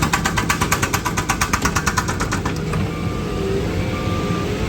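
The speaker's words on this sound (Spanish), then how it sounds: "Aquí está el martillo hidráulico picando para hacer una de las zanjas." A hydraulic hammer on an excavator breaks ground for trenches at a construction site by the Santiago Bernabéu stadium. It fires a fast, steady, loud train of impacts over engine rumble, then stops and leaves the machinery droning.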